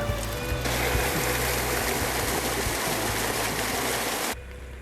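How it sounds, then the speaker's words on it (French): Water flowing steadily from the Inca stone fountain called the princess bath at Ollantaytambo, a broad close rushing splash that holds even and then drops abruptly near the end. "On appelle parfois cette fontaine le bain de la princesse."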